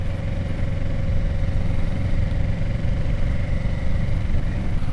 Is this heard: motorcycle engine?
yes